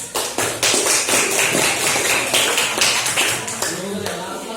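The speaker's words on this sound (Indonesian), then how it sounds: "Ayo, beri tepuk tangan lagi." Classroom applause from junior high students after group presentations, a dense run of hand claps with a few sharper individual claps, sustained for several seconds at fairly close range, with some voices mixed in.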